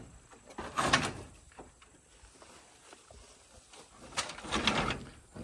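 An old barn door that had not been moved in decades is shifted, giving two muffled scraping, rumbling pushes a few seconds apart, faint and nearby.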